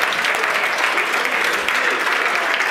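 An audience applauds at an insurance-industry award ceremony as the 2016 Innovation Marketing trophy winner is announced; dense, steady clapping fills the room at close range and holds evenly without a break.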